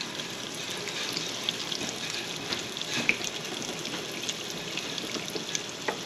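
Chicken pieces fry in oil in a pan, the first of two batches for a creamy lemon chicken pasta. A steady close hiss and sizzle runs throughout, with scattered small pops and crackles and no talking.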